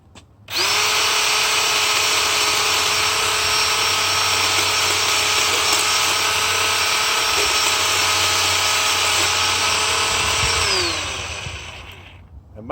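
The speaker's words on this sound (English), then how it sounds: "How am I going to cut this big piece of wood? We will use the chainsaw." A chainsaw being used for the first time revs up and holds a loud, steady whining drone for about ten seconds while it cuts a big piece of wood, then winds down at the end.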